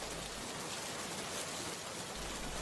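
Steady rain falls on a cartoon village, a constant broadband patter with no voices and no pauses over the short stretch.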